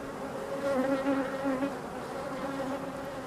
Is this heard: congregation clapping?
no